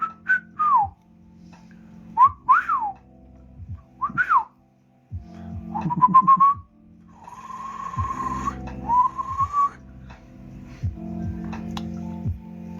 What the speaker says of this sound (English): It is of course called to whistle.